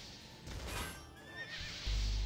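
A horse in a video game neighs, a rising, quavering whinny over a dense, noisy game soundscape, followed by a low rumble near the end.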